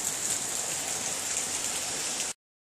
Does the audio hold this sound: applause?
no